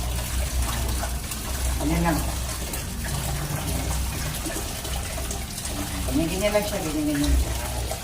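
Water runs and splashes steadily while a dog from a kennel is bathed, with someone talking softly over the flow.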